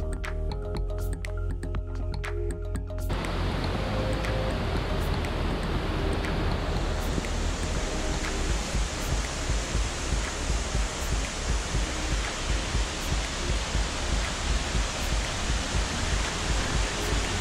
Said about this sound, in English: Waterfall's pumping. Hey, plenty of water.